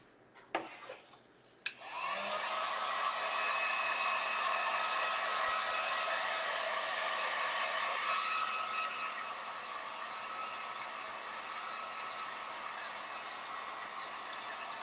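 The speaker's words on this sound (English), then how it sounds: "I'm going to use my heat gun to dry this." A heat gun blowing hot air to dry painted scarecrow wall decor: a steady, loud whooshing whir that starts after a couple of handling clicks and runs continuously, softening slightly toward the end, with no talking.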